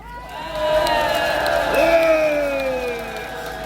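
A crowd at an outdoor political rally condemning election fraud cheers and whoops loudly, with rising and falling shouts over a steady roar of voices that swells and holds for a few seconds.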